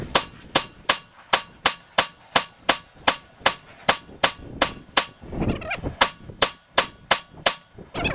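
Rimfire rifle shooting Remington Thunderbolt ammunition, sharp close shots fired in a quick regular rhythm of about fifteen rounds with a brief rustling handling noise in the middle.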